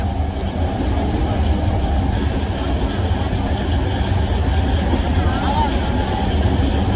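A steady, heavy rumble of a moving train fills the whole stretch, with muffled voices blending into the constant rattling noise.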